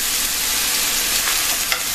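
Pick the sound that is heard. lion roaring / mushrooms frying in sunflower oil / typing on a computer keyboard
mushrooms frying in sunflower oil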